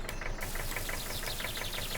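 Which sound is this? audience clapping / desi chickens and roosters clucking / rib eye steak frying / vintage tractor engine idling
vintage tractor engine idling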